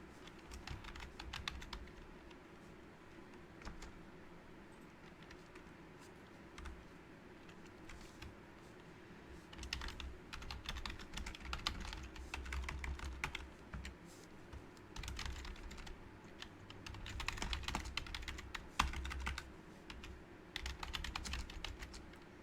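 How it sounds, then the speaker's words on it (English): Quiet, steady typing on a computer keyboard, a continuous patter of individual key clicks with occasional busier bursts, heard alone in a calm room. "I'm just typing in my details for the YouTube stream"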